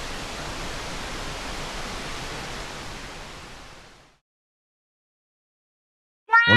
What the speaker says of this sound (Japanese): 滝のミストと森の澄んだ空気に癒され、気分爽快の白糸の滝散歩でした